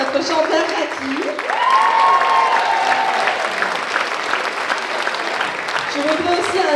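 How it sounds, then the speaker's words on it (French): An audience at a cabaret show claps steadily for several seconds, a dense wash of applause, with a voice briefly rising above it. "Un peu d'applaudissements aussi pour notre chanteur"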